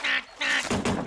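A cartoon duck gives three loud, nasal quacks in quick succession, close and clear with no talking.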